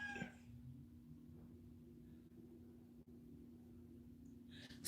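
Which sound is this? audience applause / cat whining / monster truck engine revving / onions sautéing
cat whining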